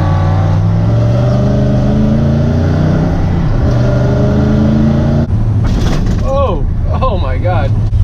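A loud 1971 Ford F100 truck cruises in fourth gear, its steady deep engine drone close and constant, with a brief shift in tone near the end.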